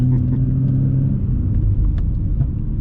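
A BMW 325i with the N53 engine, tuned to 307 bhp on a stock motor, accelerates with a steady low rumble and engine drone heard from inside the car, continuous and fairly loud with no talk.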